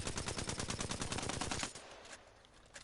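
Alternator submachine gun firing in Apex Legends, a fast, even rattle of shots lasting under two seconds before cutting off, followed by a quieter tail.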